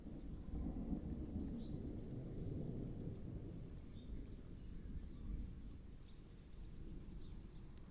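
Thunder from a severe thunderstorm rumbles as a low, steady, distant roll, with rain falling throughout and no talking.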